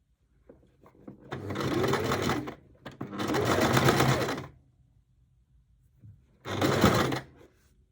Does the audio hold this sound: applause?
no